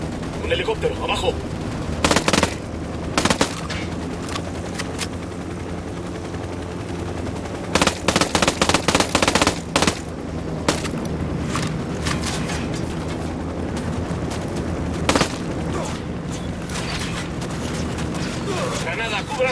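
Apache helicopter gunfire in the video game Ghost Recon Wildlands rattles out in repeated bursts of rapid machine-gun fire over a constant rumbling din, while voices talk throughout.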